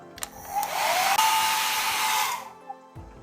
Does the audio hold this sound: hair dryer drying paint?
yes